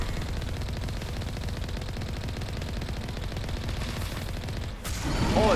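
Rapid gunfire from the Mako vehicle in Mass Effect Legendary Edition, a dense, steady mechanical rattle of shots lasting several seconds before a sharp burst and rising clatter at the end, with no talking.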